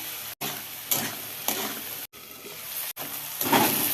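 Pita saag greens with potato and turmeric frying in hot oil, a steady close sizzle broken by short pauses, with bursts of louder crackling as the pan is stirred.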